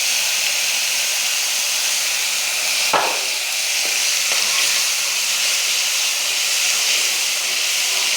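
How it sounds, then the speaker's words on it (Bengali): Ground spice paste of chilli, ginger, cumin, onion and garlic frying in a pan, giving a constant loud hiss of steam with one brief clatter near the middle. "ভেজে দিচ্ছি।"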